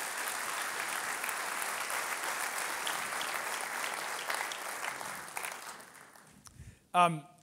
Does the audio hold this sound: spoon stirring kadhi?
no